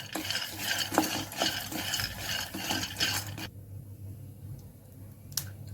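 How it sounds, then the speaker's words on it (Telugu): Peanuts being roasted in a pan, with dry rattling and scraping as they are stirred, a series of close, irregular clicks and scrapes that stop abruptly partway through, leaving near quiet. "పల్లీలు వేసుకొని వేపుకోవాలి"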